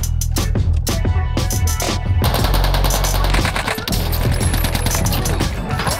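Rapid automatic gunfire and single shots from a Call of Duty match, loud and dense, with bursts running almost continuously throughout.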